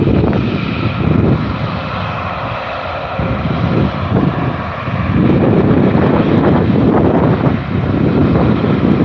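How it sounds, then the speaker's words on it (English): An Emirates A350 airliner taking off at Newcastle Airport, a loud sustained jet engine roar with rumbling low end and some wind buffeting on the microphone, no voices. "has this Emirates been cleared for takeoff?"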